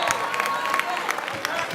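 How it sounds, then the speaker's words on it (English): Wildcats fans applaud their team's defence at a basketball grand final, a steady wash of clapping and crowd noise with scattered sharper claps rising throughout, heard at a distance in a large arena. "And the applause from the Wildcats fans for their defence."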